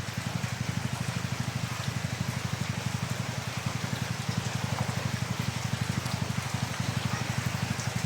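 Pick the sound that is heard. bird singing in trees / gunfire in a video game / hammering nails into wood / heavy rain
heavy rain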